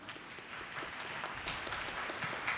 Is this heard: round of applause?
yes